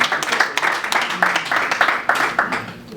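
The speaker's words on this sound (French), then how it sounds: "Nous allons applaudir pour lui." Scattered hand clapping from an audience at an award ceremony honoring a Congolese music star, uneven bursts of claps close by, rising and falling without a steady rhythm.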